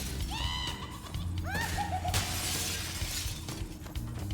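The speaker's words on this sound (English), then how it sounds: "My favorite glass breaking sound." Glass windows shattering in the Spyro video game, several sharp bright crashes with ringing tinkly falloff, spaced across the stretch amid background game music.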